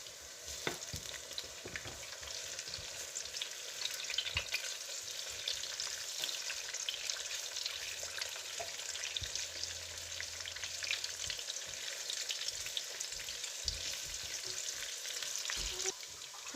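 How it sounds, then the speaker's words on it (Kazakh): Eggplant and meat fry together in a pan with a continuous, faint sizzle and crackle, broken by occasional stirring scrapes, and no one talks. "Тағы 3-4 минут қуырамыз."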